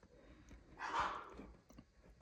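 A dog barks once or twice at a distance, a single faint, muffled burst of barking standing out briefly against quiet room noise.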